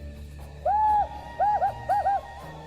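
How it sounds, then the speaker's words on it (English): A desert tawny owl hoots in a steep canyon near the Dead Sea: one drawn-out hoot, then two pairs of shorter hoots, clear and resonant, with no talking. "His calls echo within the canyon."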